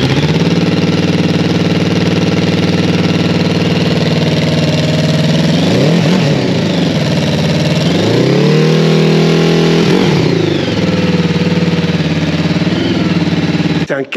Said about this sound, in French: C'est un 4 cylindres, vous avez vu un peu le son qu'il a.